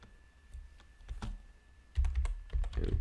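Keys clatter on a computer keyboard in quick irregular bursts, close and fairly soft at first, then louder and denser in the second half, with no talking.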